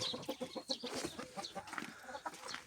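Chickens cluck close by in a muddy, snow-covered farmyard in April. Their short, repeated calls overlap in an uneven rhythm over soft background noise, with no one speaking.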